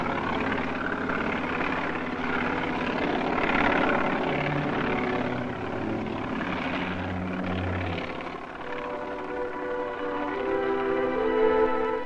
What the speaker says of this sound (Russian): Оперативные переброски производились на вертолетах.